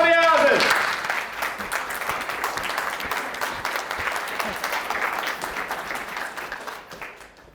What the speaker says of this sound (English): raise your hands and give a very warm applause to Karen Adriaenssen.